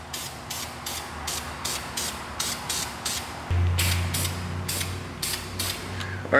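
An aerosol can sprays paint onto brake calipers inside a shop in a steady series of short, hissing bursts, each about half a second long. The bursts are close and fairly loud over a low background hum.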